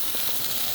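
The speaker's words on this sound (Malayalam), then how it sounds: "ഗ്യാസ് കൂട്ടി വെച്ച് തന്നെ നമുക്ക് വറുത്തെടുക്കാം." Grated coconut frying over high gas flame in a pan for Kerala prawn theeyal, a steady soft sizzle with a fine hiss running evenly throughout, close and unbroken.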